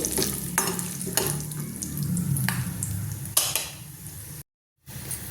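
Peanuts fry in hot oil in a pan, a continuous close sizzle with repeated scraping and clinking of a spoon stirring them, loud and without talk, ending in a brief silence.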